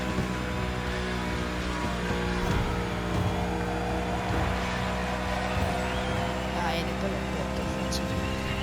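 NASCAR race cars in The Crew Motorfest video game, engines droning and revving continuously as several cars run together late in a race, with a race commentator speaking over the steady roar.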